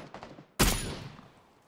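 Gunfire in PUBG on the Erangel map: after faint background chatter, a sudden loud close burst of shots erupts, followed by a lingering rumbling tail and echo that slowly fades.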